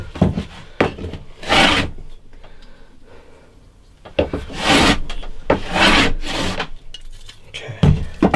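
Sanding a wooden guitar part during a first guitar build, close, loud rasping strokes in irregular bursts, some long sweeps and some short scrubs, with brief pauses between.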